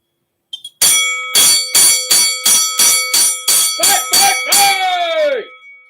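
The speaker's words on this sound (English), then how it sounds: "Sound the fight bell for you." A fight bell rung rapidly during a live auction stream, about a dozen loud metallic clangs in quick rhythmic succession, each with a bright ringing tone, the last strikes blurring into a sustained ring before fading.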